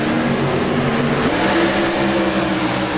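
Race cars accelerate together at a green flag start, a dense, loud engine drone holding steady with no commentary audible.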